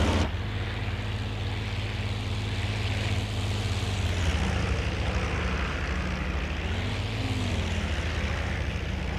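A P-40E-1 fighter's piston engine drones loud and unbroken in IL-2 flight at low altitude, a dense steady roar with slight pitch shifts.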